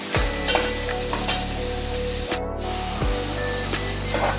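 Onions frying in a pan for a karela dish, giving a loud, steady sizzle and hiss throughout, with a few faint stirring scrapes and no talking.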